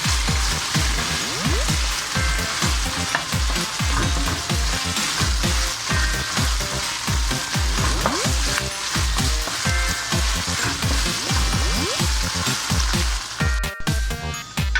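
Ground meat sautéing in its own rendered fat in a pan for Jollibee-style spaghetti, giving a steady, dense sizzle with crackling pops and scraping stirs, close and continuous with no talking.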